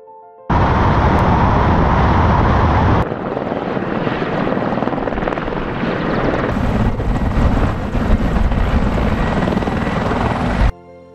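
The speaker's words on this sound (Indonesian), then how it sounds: "Helikopter tempur MIL Mi-24 terlihat mengevakuasi awak" A Russian Mil Mi-24 combat helicopter flying during a crew evacuation in Ukraine, a loud continuous roar of engine and rotor filling the whole clip with a dense, steady rumble.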